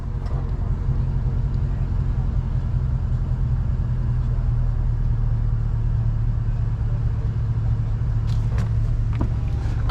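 A Dodge Charger R/T with straight-piped exhaust holds a steady, deep rumbling idle, close and constant, with a few light clicks near the end.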